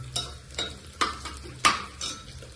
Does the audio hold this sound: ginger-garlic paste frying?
yes